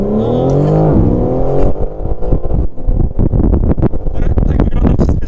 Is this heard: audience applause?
no